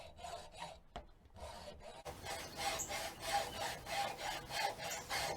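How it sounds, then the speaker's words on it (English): A hacksaw cuts off part of a metal garden-bed stake, making quiet, rhythmic rasping back-and-forth strokes that settle into a steady pace after a couple of tentative scrapes. "you can use a hacksaw to cut off the part of the stake that inserts into the ground"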